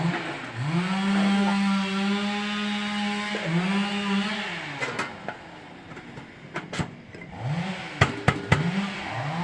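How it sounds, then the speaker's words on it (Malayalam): A chainsaw cuts a tree on a rural property nearby, its engine droning steadily and then revving in repeated rises and falls, with sharp cracks and knocks toward the end. "അവിടെ മരം മുറിക്കുന്നത്"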